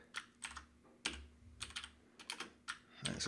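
Typing code on a computer keyboard for a Delphi TreeView program, a close series of quick clicking keystroke bursts with short pauses and no talking.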